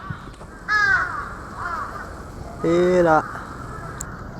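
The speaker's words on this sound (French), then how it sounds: "Je crois que les corbeaux se sont donné rendez-vous ici." Crows cawing on a street in Japan, two loud harsh calls close by, with fainter caws between them, while someone speaks briefly.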